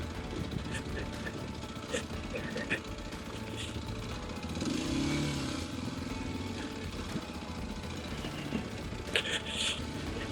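Kawasaki KLX230S motorcycle working over good-sized loose rock on a steep forest road hillside, engine drone with scattered clattering stones, with talk over it throughout.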